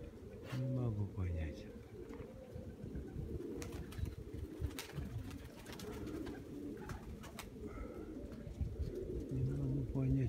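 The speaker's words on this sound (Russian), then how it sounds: "это красный белоголовый голубь" Red white-headed pigeons coo in a loft, a low, rolling murmur that carries on throughout, with several birds layered together. Someone speaks over them at times.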